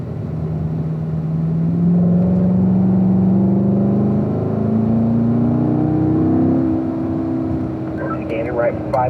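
A car accelerates up a hill on a racing run, its engine droning loud and close as the pitch climbs steadily through the gears, with a voice talking briefly near the end.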